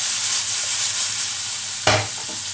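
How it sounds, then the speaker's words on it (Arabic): Green beans sautéing in a pot give a steady, close sizzle of frying, broken near the end by one louder stir and clatter of the spoon against the pot before the hiss settles again. "كنبقى كنشحر في هاد لاريكو ديالي ولا هاد اللوبيا الخضراء"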